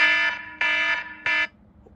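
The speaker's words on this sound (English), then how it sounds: "Why did that alarm go off, you guys?" An indoor alarm goes off in a home, sounding three loud, steady electronic beeps, each about a third of a second long, evenly spaced and close by.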